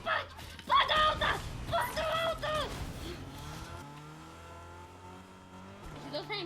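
A car in the video game Fortnite drives along, its engine revving and droning with rising and falling pitch over busy game sounds while voices talk excitedly.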